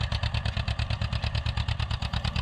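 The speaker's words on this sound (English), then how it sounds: "that classic sound of an old John Deere engine, it's music to my ears" An old John Deere tractor engine runs close by in a steady, rapid rhythmic chugging with evenly spaced low pulses, loud and alone with no voices.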